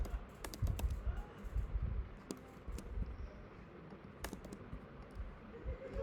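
Computer keyboard typing while writing code for a Jetpack Compose to-do app, irregular bursts of clicky keystrokes with brief pauses, close and fairly soft, no talking.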